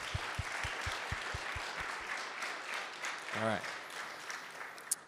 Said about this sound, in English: Can we also give a quick round of applause for our faculty and sponsors?